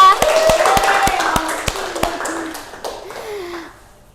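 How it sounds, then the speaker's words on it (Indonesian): A small class in a microteaching session gives a student a round of applause: a handful of crisp, separate claps spaced out over a few seconds, mixed with voices talking. "Oke, tepuk tangan buat Mbak Alia."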